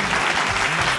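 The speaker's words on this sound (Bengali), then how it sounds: "জোরে একটা হাততালি হয়ে যাক।" Game show studio audience applauding loudly, a dense steady burst of clapping filling the short moment.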